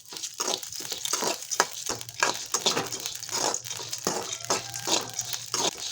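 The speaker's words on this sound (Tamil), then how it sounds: "இது பொரியிற சவுண்ட் கேளுங்களேன்." Rice puffing as it roasts in a kadai, a dense run of crisp crackles and pops with faint scraping, close but fairly quiet, with no talk.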